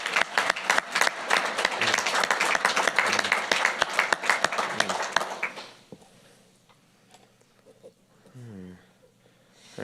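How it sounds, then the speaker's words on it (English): A room of attendees at an Ascension Parish Council meeting applauds in dense, steady clapping for about five seconds before it fades out, followed by quiet room sound and a brief voice. "How about one more round of applause there for Mr."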